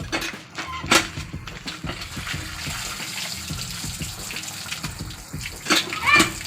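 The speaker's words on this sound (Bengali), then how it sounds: "মাছগুলি কাটা হয়ে গেছে, এখন একটু ধুয়ে নিয়ে নেব।" Tap water gushes and splashes in a sink while freshly cut chapila fish are washed by hand. Running water comes and goes in bursts close by, with wet sloshing and occasional light clinks.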